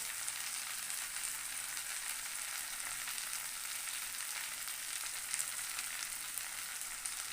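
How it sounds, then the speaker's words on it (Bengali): Chicken and masala fry in a pan, a faint, steady sizzle running evenly throughout with occasional small crackles. "চিকেনটা বসিয়ে দিলাম কষিয়ে নিলাম মশলাটা আমি কষিয়ে নিলাম"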